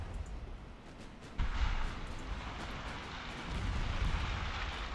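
Torpedo hits explode during a naval battle in the video game Ultimate Admiral Dreadnoughts, with muffled, rumbling booms over a constant low roar and a sudden louder burst partway through.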